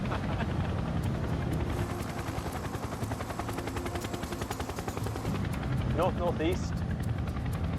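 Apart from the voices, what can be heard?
CH-47 Chinook helicopter flying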